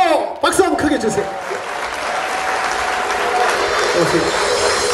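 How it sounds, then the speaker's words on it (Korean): A crowd at a cherry blossom song festival at Jikjisa temple in Gimcheon applauds loudly and steadily after a brief voice at the start, with the clapping sustained as a bright, continuous patter to the end. "박수 한번 크게 주세요"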